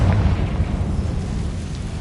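Rumbling blast of the Confringo spell in the video game Hogwarts Legacy, a loud, low, sustained boom with noisy crackle that holds steady for about two seconds.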